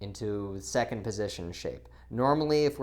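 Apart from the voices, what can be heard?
No everyday noise stands out behind the speech.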